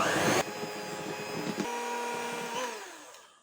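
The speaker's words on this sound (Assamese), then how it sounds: "ৰিফাইন তেলখিনি দি আৰু অলপ সময় বিট কৰি ল'ম" An electric mixer beats cake batter after refined oil is added for a homemade chocolate cake. A loud whirring starts, then settles into a steadier hum that fades toward the end.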